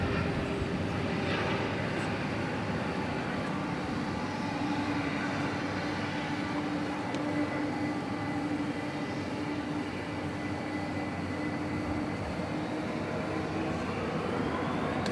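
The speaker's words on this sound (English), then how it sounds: "we get the Lufthansa 777 coming in from Mexico City" A Lufthansa Boeing 777 landing from Mexico City at DFW Airport, a steady distant engine roar and rumble with a faint whine, moderately quiet and continuous.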